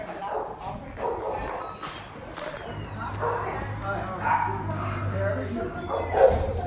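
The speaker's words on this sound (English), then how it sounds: "He's a little puppy right here." A little puppy at a dog rescue holiday event gives yips, barks and whimpers close by, mixed with people talking and crowd noise.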